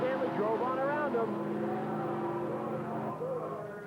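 Drag racing cars, including a big-inch Ford, roar down an Australian strip in the 1980s, a loud engine drone with rising and falling pitch as the cars pass, with commentary over it.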